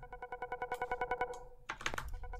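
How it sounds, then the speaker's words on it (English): A synth blip sound repeats in quick, evenly spaced pulses, followed by a brighter, noisier burst near the end, fairly quiet, with no voices. "Then I have this blip sound"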